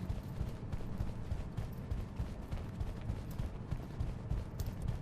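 Footsteps in the horror video game The Backrooms: Lost Tape, a continuous run of muffled, thudding steps in a quick, irregular rhythm, fairly quiet with no talk over them.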